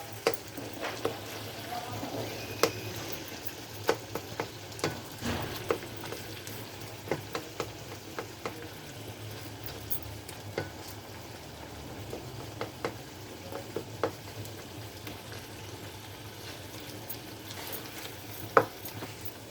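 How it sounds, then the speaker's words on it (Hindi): Chicken tikka karahi with tomatoes, onions and spices being stirred in a pan, a soft steady sizzle under repeated light scraping and clinking of the spoon against the metal. "और अब आपने इसके अंदर अच्छे से स्टीरिंग करनी है"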